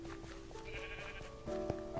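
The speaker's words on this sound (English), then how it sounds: "Get some sheep up here." Sheep bleating in the video game Minecraft Dungeons, a couple of short nasal bleats over a low game background hum, moderately close with no talking.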